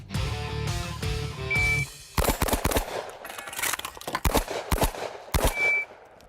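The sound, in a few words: gunshots hitting 3 steel targets and 3 clay birds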